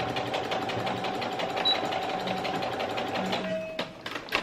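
A sewing machine top stitches a bra strap, humming and chattering steadily with a rapid rhythmic needle beat, close by, slowing and stopping near the end.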